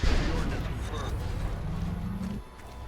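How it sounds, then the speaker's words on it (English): A Giga Rocket launches and explodes in XCOM: Enemy Unknown, a loud low boom with a rumbling, crackling tail lasting a couple of seconds before it fades. "Rockets away."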